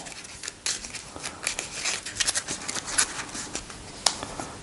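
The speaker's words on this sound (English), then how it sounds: "Let's give it a quick shuffle." A deck of ally cards from the Arkham Horror third edition board game being shuffled by hand, a quick series of crisp riffling snaps and papery flicks, close and without talk.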